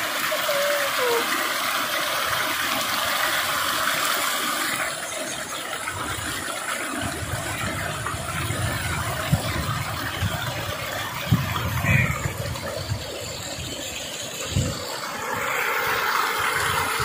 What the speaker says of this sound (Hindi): पानी आया है माशाल्लाह, बहुत तेज है।